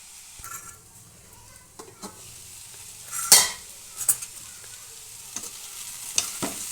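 A spoon stirs cauliflower fry in a pan, with soft scraping strokes and clinks over a faint sizzle, irregular and close, with one sharper metallic scrape midway.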